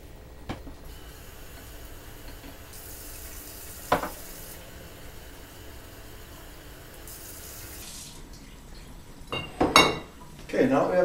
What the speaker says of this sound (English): you can actually use a little bit of water to get the rest of the sauerkraut out of the jars